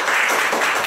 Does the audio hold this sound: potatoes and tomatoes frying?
no